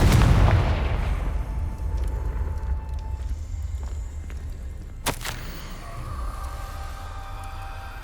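Confringo fire spell cast in the Hogwarts Legacy video game: a sharp, loud burst near the five-second mark over a steady rumbling game backdrop, with an earlier booming onset fading into ambient hum.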